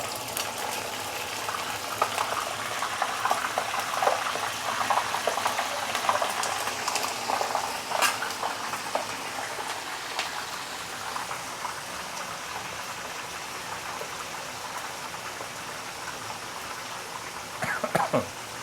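Snapper fish frying in reused oil in a wok, a continuous dense sizzle with crackling spatters that swells early and then settles into a steady hiss.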